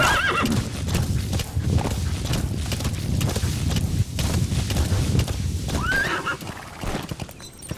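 A horse in Metal Gear Solid V walks with rhythmic hoof clip-clops on open ground and lets out two clear whinnies, loud and near, with some wind noise.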